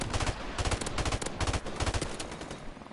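Rapid automatic gunfire in a first-person shooter video game, aimed at a helicopter, rattles in loud repeated bursts with short gaps between them, filling nearly the whole stretch before tapering off at the end.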